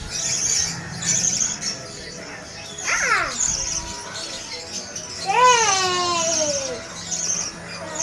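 Hand-fed pet birds at a small aviary, including ones called White and Yellow. Several short, sharp squawks ring out close by, with a longer wavering squawk near the middle, over faint background noise and scattered human voices.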